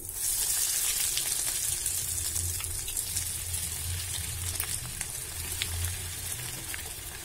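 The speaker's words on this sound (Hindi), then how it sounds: "बाकी के डेविल भी मैं फ्राई कर लूंगी" Egg devils, Kolkata-style egg chops, fry in hot oil with a steady, close hiss and sizzle and occasional crackling pops, continuous and alone.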